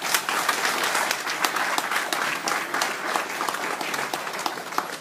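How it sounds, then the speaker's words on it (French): A rally crowd in Ndjolé, Gabon, applauds loudly, with dense clapping and sharp individual claps popping out of the steady wash, no speech over it. "Je vous applaudis seulement."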